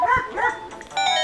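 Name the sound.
dog barking in the video game Zelda: Ocarina of Time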